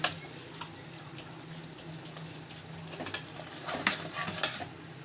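Cashew nut paste and curd stirred together in a pan, making faint wet scraping and sloshing with occasional light clinks of the spoon.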